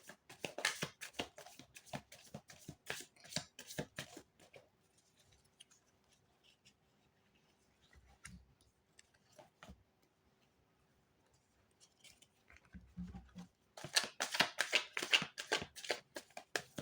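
Tarot cards are handled and picked, with quick crisp riffling and flicking bursts at the start and again at the end, separated by a near-silent stretch with a few soft taps and rustles.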